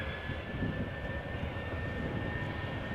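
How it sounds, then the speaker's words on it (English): A KLM Boeing 737-700 jet, first flown in 2011, departs Amsterdam Schiphol for Oslo, its engines giving a steady, unbroken broadband roar throughout with no voices. "Boeing 737-700 going to Oslo, KLM flight 1143."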